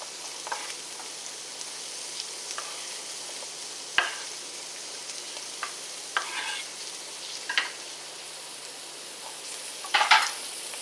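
Onions and a burger sizzle on a grill, a steady faint frying hiss broken by scattered soft pops and crackles, close and without any talking.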